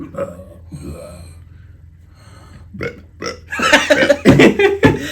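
A person burps on command, with a long, loud, rough belch building up near the end after softer throaty voicing, close to the listener.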